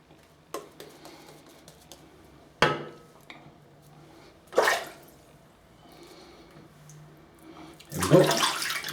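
A shaving brush has its tips dipped into water, giving three brief splashy swishes spaced a couple of seconds apart, with light clicks and handling noises in between.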